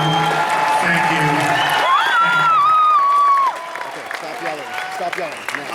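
A panel audience at Halloween Horror Nights, Universal Orlando Resort, breaks into loud applause and cheering with whoops and shouts, and a voice speaks over the crowd before the noise drops to a lighter, scattered patter.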